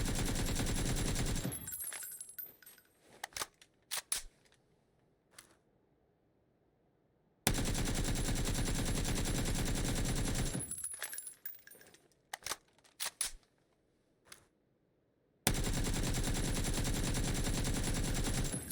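Automatic rifle fire in PUBG during a recoil test, long sustained bursts of rapid shots broken by spent casings tinkling down and quieter pauses, loud and close with no speech.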